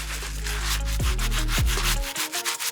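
A stiff bristle brush scrubs the midsole of a Panda Nike Dunk sneaker in dense, continuous back-and-forth strokes, close and loud, with no talking.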